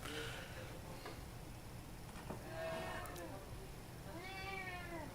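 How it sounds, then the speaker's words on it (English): A cat meows twice with drawn-out, wavering cries a couple of seconds apart, moderately close, over a steady low background hum. "I think that Kitty is getting somewhat upset."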